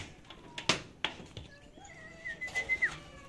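A racing pigeon perched high on a house roof in Ilocos Sur, giving soft coos and calls, with faint clicks and thumps nearby and some quiet background noise.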